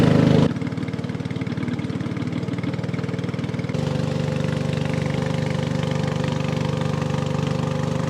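A boat's combustion engine drones continuously at close range on Thale Noi lake in Thailand, a low rumbling hum that grows slightly louder partway through and holds without pause.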